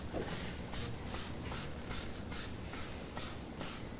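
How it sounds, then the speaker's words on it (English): A spray bottle of cleaner is pumped onto the lower body of a Mazda MX-5 Miata RF, giving a regular train of about a dozen quick hissing sprays over steady background noise. "I'm also going to spray the lower of the car."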